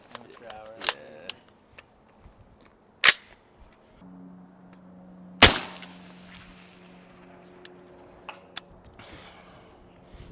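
Rifle shots at a steel plate target ring out as several sharp, loud cracks spaced a few seconds apart outdoors, along with a faint steady hum and small clicks in between.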